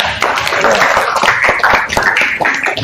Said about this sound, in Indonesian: Beri aplaus dulu untuk Rizal